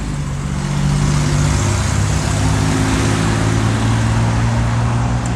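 Heavy trucks or motorbikes labouring up a steep hill near a house, a loud, continuous engine drone with steady low rumble holding throughout, no voices.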